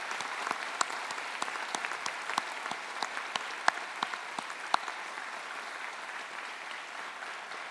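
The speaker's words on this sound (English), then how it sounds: "Graduates, would you please join me in a round of applause for all of the Swinburne staff?" Steady, fairly dense applause fills a Swinburne university graduation hall as graduates clap for staff, with a few sharper individual claps standing out above the continuous wash.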